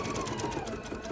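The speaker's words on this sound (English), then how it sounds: "once I can go straight again, I'm just going to sew to the end." A sewing machine stitches an apron toward the end of a seam, a brief, steady, close whirring drone with no talking over it.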